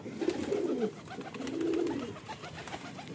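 Pigeons in a breeding coop give two soft, rolling coos close by, each lasting under a second, over faint background ambience.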